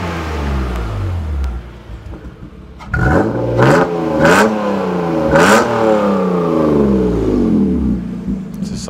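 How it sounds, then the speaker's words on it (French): A Mercedes C63 with an X-pipe exhaust idles with a deep burble, then takes several sharp throttle blips in a row, each rising to a loud rev and falling back, heard up close. "mets-nous quelques petits coups de gaz"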